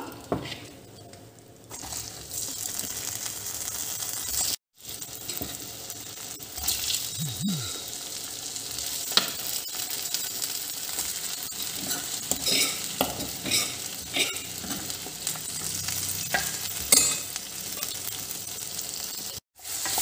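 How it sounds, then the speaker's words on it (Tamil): Chicken and masala sauté in a pan for a coconut milk chicken curry, a loud sizzle broken by frequent scraping and clattering of a spatula against the pan, with brief pauses and no speech. "ஸோ இவ்வளோத்தையும் போட்டு நல்லாவே முதல்ல வதக்கிக்கோங்க."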